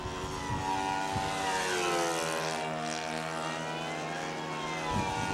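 A Strega control-line model airplane flies in the wind at a Brodak fly-in, its small propeller engine running lean with a steady, loud, nasal drone that rises and falls slightly as it circles, with no talk.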